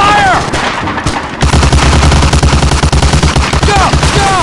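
Sustained gunfire and rapid machine-gun bursts fill a Medal of Honor: Allied Assault battle, loud and dense with a steady pounding rhythm throughout, joined by ricochet-like whines near the start and end.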